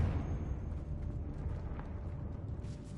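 Confringo fire-blast spell from Hogwarts Legacy bursting with a deep, rumbling roar that swells and lingers throughout, a sustained low boom with crackling texture in a decayed catacomb.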